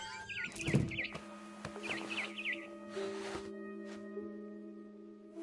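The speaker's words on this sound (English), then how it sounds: "Then I heard chirping outside my window. It was a barn swallow going back to her nest." A barn swallow chirps in the video game What Remains of Edith Finch, with a few quick repeated chirp phrases over a steady, quiet ambient hum.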